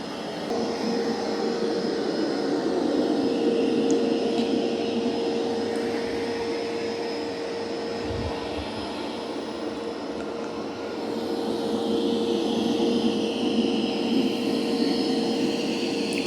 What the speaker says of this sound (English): it's vacuuming in nice straight lines